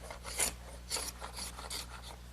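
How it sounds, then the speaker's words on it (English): A scraper rasps across freshly glued wooden boards for a rocking horse, lifting off excess glue in quick repeated strokes, close and fairly quiet. "scrape off any excess glue"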